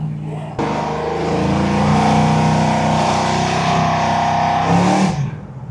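A 1969 Chevrolet Chevelle SS restomod with a 632 big block V8 rumbles loudly nearby, kicking in abruptly and holding a deep, steady roar for several seconds before cutting off.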